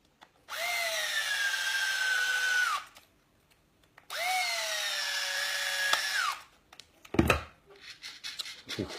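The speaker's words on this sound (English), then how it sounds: "put two of the gearbox screws in." A power driver runs gearbox screws into a model car's front gearbox in two steady whining bursts, each about two and a half seconds long, followed by a few clicks and small handling knocks.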